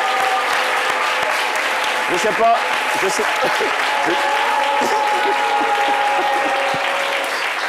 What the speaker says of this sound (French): Mesdames et messieurs, vos applaudissements pour Richard Zena